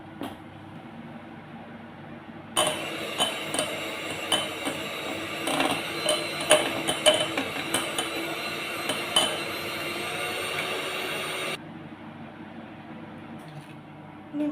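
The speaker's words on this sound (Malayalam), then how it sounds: "വേണ്ടി ഞാൻ 50 ഗ്രാം ബട്ടർ എടുത്തിട്ടുണ്ട്. ഇനി ഇതൊന്ന് ബീറ്റ് ചെയ്തെടുക്കാവേ. ഞാൻ ഇതിലേക്ക് ഈ പൊടിച്ച പഞ്ചസാര ഞാൻ ഇട്ട് കൊടുക്കുകയാണ്." Butter beaten with powdered sugar for cupcake batter, a steady whirring mixer with light rattling clinks, running for about nine seconds before stopping, no talk.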